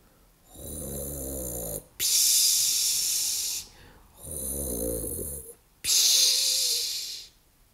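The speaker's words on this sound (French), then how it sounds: "Pierre entend les ronflements." A witch snoring in a read-aloud Halloween story: four long snores alternate between a low, throaty rumbling inhale and a breathy hissing exhale, loud and close, with no talk over them.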